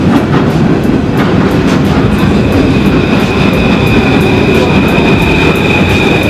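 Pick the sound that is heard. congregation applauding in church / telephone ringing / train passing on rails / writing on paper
train passing on rails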